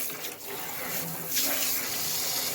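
Grease being poured off cooked hamburger meat, a steady liquid pouring and splashing sound held close and fairly loud for a couple of seconds.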